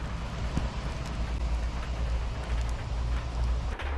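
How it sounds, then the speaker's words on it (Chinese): Heavy rain drums steadily on the roof of a small camper van parked near an old town in northeast China, a dense, continuous wash with a low rumble and occasional louder drops, close and even throughout with no talk. "看看外面下多大的雨！"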